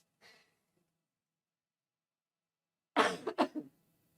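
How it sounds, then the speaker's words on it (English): A short faint puff, a pause, then a burst of harsh blowing noise in two or three quick gusts, close and fairly loud. "I'm just going to blow my nose quickly"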